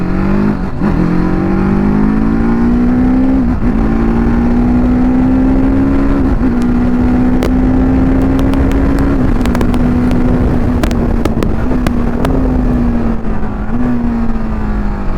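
A TVS Apache RTR 310 motorcycle accelerates hard and loud, its engine rising steadily through several gears. The quick shifter makes each upshift a brief dip with no clutch, under heavy wind buffeting and no talk.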